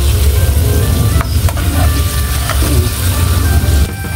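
Fresh small shrimp (alamang) frying in a pan, a steady loud sizzle throughout with occasional sharp clinks of stirring, close up and without talk.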